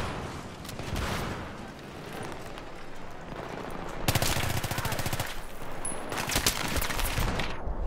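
Rapid automatic fire from an M5K submachine gun in Battlefield 3 close-quarters combat at Ziba Tower, steady bursts through the whole stretch with a louder, denser run in the second half over a busy game background.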